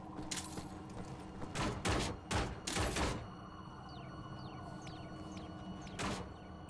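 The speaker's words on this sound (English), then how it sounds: "Someone's firing at me." Enemy gunfire in the shooter game Wolfenstein: The New Order, with a cluster of loud sharp shots early on, then quieter background game noise and a single later shot.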